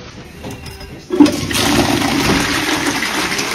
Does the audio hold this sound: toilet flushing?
yes